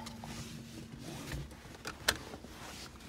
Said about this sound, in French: la ceinture, si on la met.